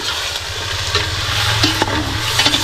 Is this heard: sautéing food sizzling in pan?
yes